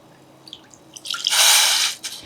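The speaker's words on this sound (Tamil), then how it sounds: "இந்த புளி கரைசல் சேர்த்துக்கிறேன்" Tamarind extract is poured into a pot of sambar, heard as a few light drips followed by a short, close liquid splash and pour lasting about a second.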